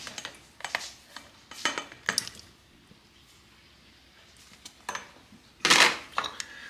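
Small cooking pans handled in a home kitchen while reheating Indonesian food: sharp metallic clinks and scrapes in irregular bursts, with quiet gaps and a louder clatter near the end.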